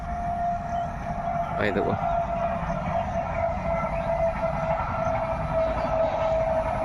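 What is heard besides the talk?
express train passing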